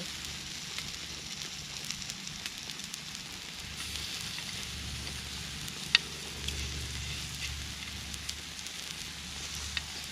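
Steady soft sizzle of pork frying on a Thai moo kratha grill, a continuous hiss with faint crackles and one sharp tick midway, fairly quiet and with no voices.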